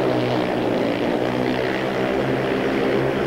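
Speedway motorcycles race flat out at the 1992 British Final at Coventry, a loud, continuous, droning engine howl held at full throttle with no break.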